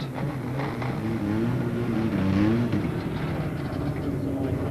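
A stock race car engine from the Buckley Auto Body machine at Monadnock Speedway's weekly racing, 1993, drones close by with rising and falling revs throughout.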